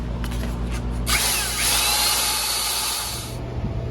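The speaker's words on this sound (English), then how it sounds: "the sandpaper actually did a pretty good job" A steady, loud whir comes from a Black & Decker reversing 1/2-inch drill chuck spinning while sandpaper is held to it. A high abrasive hiss rises sharply partway through and then drops off near the end.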